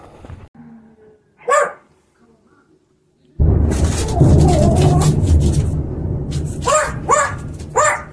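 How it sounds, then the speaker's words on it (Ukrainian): Dogs bark repeatedly outdoors in Kharkiv during a night of explosions after a quiet stretch, a few yips first, then sustained overlapping barking over steady low rumbling noise. "на вулиці собаки гавкають"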